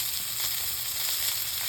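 Steak fries in butter in a pan, giving a steady, close crackling sizzle with soft popping texture throughout and no talking.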